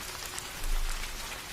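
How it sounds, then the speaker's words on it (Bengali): Evening rain pours steadily onto surfaces as a dense, even hiss with scattered drop patter, close and continuous, swelling slightly midway. "আজ অসময়ে বৃষ্টি নামলো। সময় যত বাড়ছে বৃষ্টিও দেখছি ততই বাড়ছে।"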